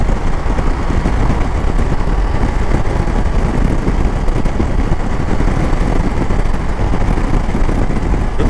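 A Triumph Tiger Sport 660 motorcycle cruises along a highway, its engine note mixed into loud, constant wind rush and road roar from the rider's position, without pause or speech.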